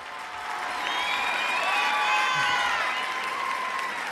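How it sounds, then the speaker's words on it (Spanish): Audience applause and cheering greet the newly proclaimed senior and junior queens of the San Pedro y San Pablo 2024 festivities in Burgos, a steady, dense crowd sound with faint whistles and voices over it. "Un aplauso para ellas."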